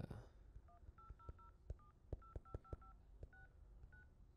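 A phone keypad is dialed, roughly a dozen crisp touch-tone beeps tapped out in quick, uneven succession, quiet and close with little else around.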